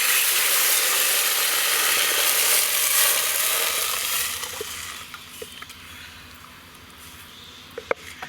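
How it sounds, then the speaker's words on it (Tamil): A loud, steady sizzle of onion and garlic frying in a pan fades down partway through, leaving quieter crackles and a few small clicks. "வெங்காயம் பூண்டெல்லாம் வதங்கிருச்சு."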